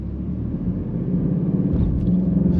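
An Alfa Romeo Quadrifoglio launching on a straight road in a 0 to 60 run, its engine a steady heavy low rumble that builds and grows slightly louder, with no talking.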